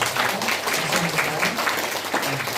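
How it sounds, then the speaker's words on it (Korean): A room full of people applauding during a church service, steady dense clapping throughout without pause. "우리 이분들 위해서 박수로 감사합니다"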